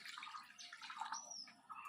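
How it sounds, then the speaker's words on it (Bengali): Water poured into a cooking pot for a leafy greens curry in a village kitchen, a soft, steady splashing and trickling heard close but fairly quiet, with no talking. "জল দিয়ে দিলাম"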